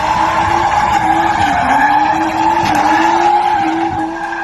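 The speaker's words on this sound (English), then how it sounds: "There he is doing some skids." A loud, sustained tire squeal as a car skids, the pitch wavering and dipping as it slides, with engine noise underneath.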